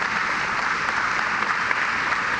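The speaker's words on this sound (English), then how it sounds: "Give him another big round of applause." An audience applauds for a governor at a public announcement event, giving a continuous dense clatter of many hands clapping at steady volume with no one speaking over it.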